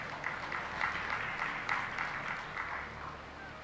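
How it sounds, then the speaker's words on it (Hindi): An audience at a religious discourse claps in a soft, continuous ripple of applause that sounds somewhat distant and steady throughout. "जिनको समझ आई उनने ताली बजाई।"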